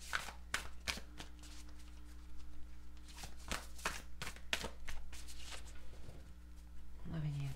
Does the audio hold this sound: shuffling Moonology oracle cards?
yes